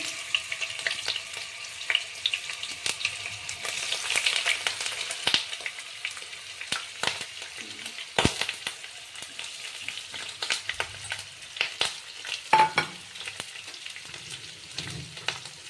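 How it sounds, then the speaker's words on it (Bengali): Paneer pieces fry in a pan over a medium gas flame with a steady crackling sizzle, broken by occasional sharper spatters and pops, close by with no voices. "একটু লাল করে ভেজে নেবো"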